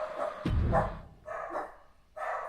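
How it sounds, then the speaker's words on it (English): A video game wrestling arena crowd in WWE 2K24 lets out rhythmic bursts of barking chants, three or four loud waves of collective yelps separated by brief lulls. "Oh, Bark Squad, bark it up."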